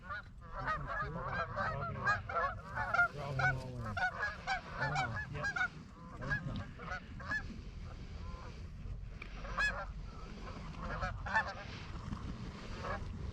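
Geese on a goose hunt, many loud honks repeating in rapid, overlapping bursts from a flock, continuing throughout over low background rumble.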